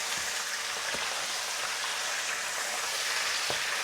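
Chicken pieces fry with onion in a hot pan, giving a continuous bright sizzling hiss broken by a few soft pops and crackles. The sound stays steady and close, with no voice over it.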